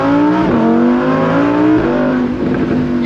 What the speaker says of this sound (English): that noise, naturally aspirated V10